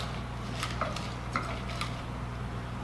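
A knife makes a few quick, light cuts through green onions for a jerk pork marinade, with soft clicks against the board over a steady kitchen hum.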